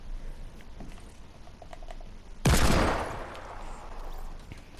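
Burst of gunfire in Fortnite Battle Royale on PS4, a sudden loud rattle of shots breaking in after quieter game ambience, then trailing off into background noise.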